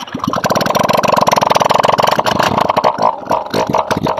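A Honda Click 125 scooter engine running after a piston, ring and valve seal rebuild, a close, loud steady idle with rapid regular firing pulses that swells briefly and then settles rougher near the end.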